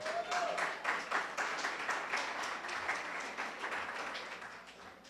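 A church congregation applauds loudly and steadily, a dense wash of clapping that holds throughout with a few brief vocal exclamations near the start and a gentle fade toward the end.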